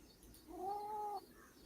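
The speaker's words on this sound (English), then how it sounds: "you hear a kitty cat" A cat gives one clear, drawn-out meow lasting about half a second against a quiet room background, with no talking.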